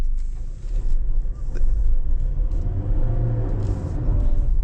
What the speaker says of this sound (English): So it's still spinning the wheels, even in that so-called mountain mode.